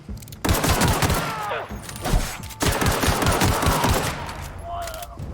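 Shotgun fire in The Outer Worlds video game, rapid repeated heavy blasts in two bursts separated by a short gap, loud and close, with a faint voice in between.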